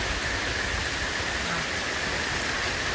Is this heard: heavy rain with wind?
yes